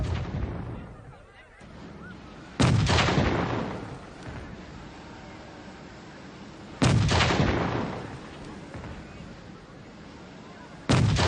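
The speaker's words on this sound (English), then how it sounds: "Fire 7 guns from the steeple, Captain." Guns fired from a church steeple during an anniversary celebration in Londonderry: heavy booming shots spaced several seconds apart, each trailing a long echoing rumble.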